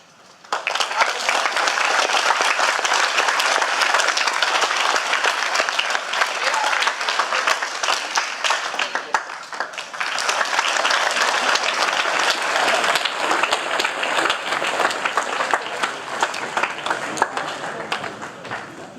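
A live audience at a 2015 Veteran's Day ceremony gives veterans a loud, sustained round of applause: dense, steady clapping for nearly twenty seconds, dipping briefly midway before swelling again.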